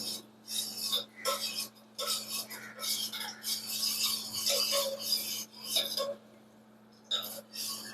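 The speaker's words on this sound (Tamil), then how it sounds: "அடுப்பை ஆன் பண்ணிவிட்டு அடுப்பில் வச்சு கிண்டி கொடுத்துட்டே இருக்கணுங்க" A spoon scrapes and stirs a thickening mixture in a pot on a stove in repeated rasping bursts with short pauses, close and fairly loud over a steady low hum.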